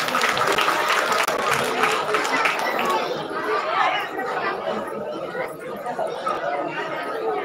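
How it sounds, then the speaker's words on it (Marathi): An audience at a village puja program in Kotawade Kumbharwadi applauds with dense clapping mixed with crowd chatter, loud at first and then thinning into murmuring talk. "टाळ्या जरा वाजवा म्हणजे मुलांना प्रोत्साहन मिळेल"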